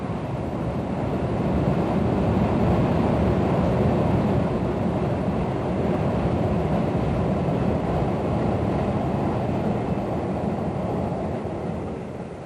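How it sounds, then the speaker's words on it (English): Regional train crossing a large reverberating bridge overhead: a steady, broad rumble that holds at the same level for many seconds before easing slightly at the end, heard from a distance with no voices. "a train rumbles across the mighty bridge"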